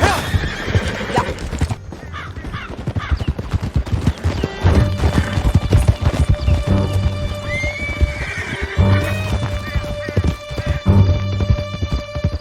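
Horses gallop in Red Dead Redemption 2 with rapid, loud clip-clop hoofbeats, whinnies and neighs, and a clattering crash, while voices call out over the ride.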